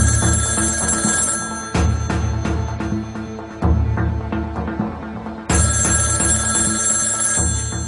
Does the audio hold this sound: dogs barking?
no